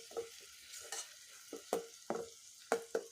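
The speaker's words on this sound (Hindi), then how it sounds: "अब ये फ्राई हो रहा है।" Masala for a cauliflower and egg curry frying in a pan, with soft sizzling broken by several distinct scraping stir strokes, close and moderately quiet with no talk.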